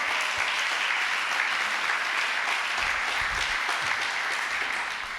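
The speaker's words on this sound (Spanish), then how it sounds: "Alguien le da un aplauso al Señor." A church congregation applauds during a Spanish-language service, a dense, steady wash of clapping that fills the room for about five seconds with no break.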